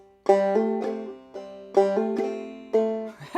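Clawhammer banjo plucks the opening of "Big Rock Candy Mountain," a short phrase of ringing bright notes struck in a bouncy rhythm, played close and alone.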